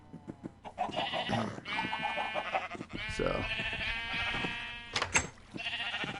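Brown sheep in Minecraft bleating in several wavering calls, one after another, mixed with game sounds and a voice speaking briefly.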